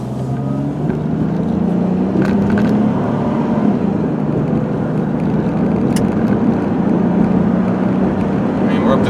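Interior road noise from a 2001 Dodge Grand Caravan with a 3.3 V6 and four-speed automatic, a steady loud drone of engine and tires at speed with a low hum rising slightly in pitch, continuous throughout.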